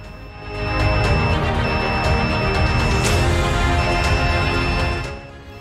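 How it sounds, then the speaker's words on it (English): An early bleeding detection device alarm, triggered by blood loss over 500 milliliters, beeping in steady high tones over a loud, constant rushing background hum. "the alarm will sound like this"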